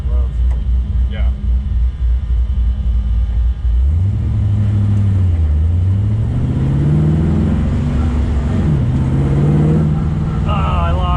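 A 450-horsepower 1965 Chevy Nova being driven, its engine droning low then revving up and down in rising and falling sweeps, loud and close, with people talking inside the car.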